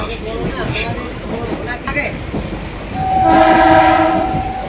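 A nearly empty passenger train rolls through cold weather toward Naihati station. Its steady rumble and rattle fill the clip, with faint voices underneath, and a loud sustained horn blast rises near the end.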